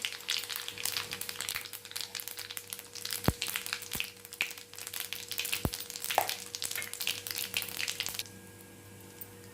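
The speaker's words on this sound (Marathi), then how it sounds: "मोहरी तळलेली आहे त्यामध्ये एक चमचा जिरं घालते" Cumin seeds hit hot oil already crackling with fried mustard seeds for upma, a close, busy sizzle with a few sharp pops and clinks, quieting near the end, no talk.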